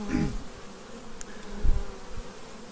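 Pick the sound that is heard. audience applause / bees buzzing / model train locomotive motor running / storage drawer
bees buzzing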